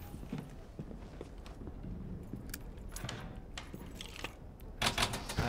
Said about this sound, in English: I hear some other footsteps.